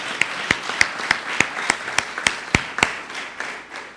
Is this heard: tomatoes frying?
no